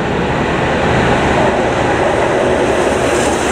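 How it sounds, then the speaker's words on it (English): A coal freight train passes nearby at the seaside, producing a loud, continuous rumbling roar of wagons that holds steady for the whole stretch without any speech. "that's some kind of coal freight train, it said on the side"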